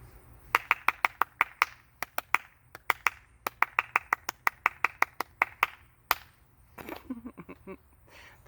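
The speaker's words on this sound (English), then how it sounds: "I think we're going to clap it." A group claps in unison along with a children's Bible lesson, sharp separate hand claps in a steady rhythmic pattern, loud and close, with a looser scatter of softer claps near the end.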